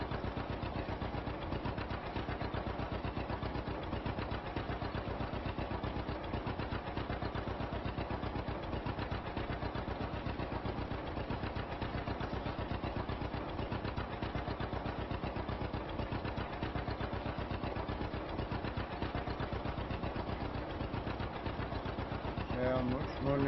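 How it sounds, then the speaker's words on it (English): An old grey Ferguson tractor engine runs steadily while cultivating and grass drilling on a farm, a constant mid-pitched chugging drone at even volume, with a voice talking over it. "The old tractor does sound nice."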